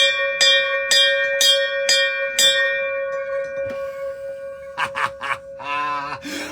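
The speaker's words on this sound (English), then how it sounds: "I love that bell." A bell in an office is struck five times in a steady rhythm, each clear ringing strike leaving a long shimmering hum that fades, followed by a few muffled knocks and a brief voice.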